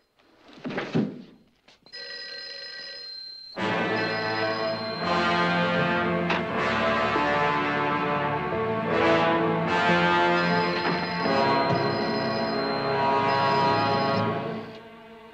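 A telephone rings repeatedly on the soundtrack of a 1956 crime film, its bell tones carrying steadily and loudly for most of the stretch after a brief thud at the start.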